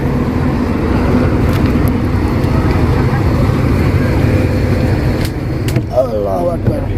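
A bus rolls along on a pilgrimage trip to Jabal Sur, its steady engine and road rumble continuous throughout, with faint voices and brief clatters near the end.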